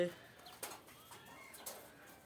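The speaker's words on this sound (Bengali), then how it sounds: "এই যে আমার কবুতরগুলো" Pet pigeons coo softly at close range, giving a few low, rolling calls over a couple of seconds with a faint voice in the background.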